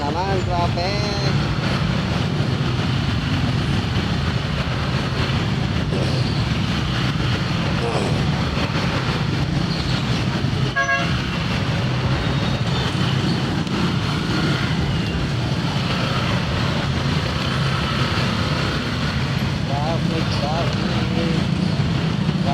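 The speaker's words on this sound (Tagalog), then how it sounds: "Bumper to bumper. Traffic sa Pasig." Dense, steady road noise from bumper-to-bumper traffic on a Pasig street, a continuous loud wash of engines and tyres with passing vehicles and a brief sharp knock near the middle, heard from inside or close by.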